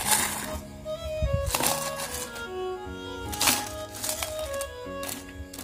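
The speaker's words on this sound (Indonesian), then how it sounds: "Oke, saya tuangkan untuk es batunya." Ice cubes are poured into a cup for a pop ice drink, making several clattering, cracking tumbles in small bursts over a bed of background music.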